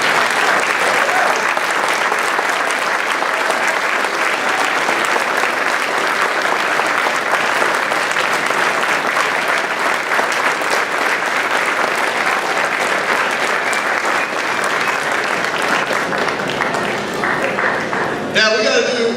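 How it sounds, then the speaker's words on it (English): A large school audience at Cascade High School's Blue Ribbon ceremony claps for its standing students in loud, continuous applause lasting nearly twenty seconds, easing only slightly before a voice breaks in at the very end. "would you please stand so we can give you a round of applause?"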